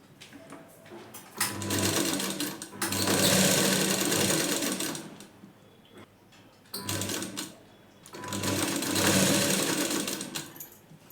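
A sewing machine stitches a blouse in two long, loud bursts of rapid mechanical whirring and clatter, separated by quieter pauses with faint handling noise.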